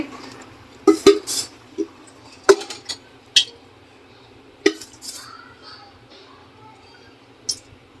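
A few sharp metallic clinks and knocks of a kadai being handled while oil heats for vegetable pulao, scattered over a quiet background with a low steady hum.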